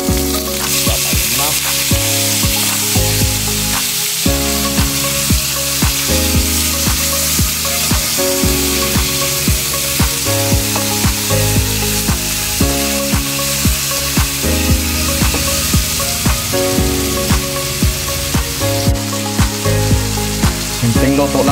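Mussels cooking in a pan, a loud continuous sizzle with repeated scraping and stirring strokes from a utensil throughout, no talking.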